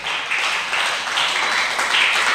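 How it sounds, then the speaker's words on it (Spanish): A church congregation applauds together during a service, producing steady, dense clapping that holds at an even level through the whole moment with no one speaking over it. "¿Usted le puede dar un fuerte aplauso al Señor?"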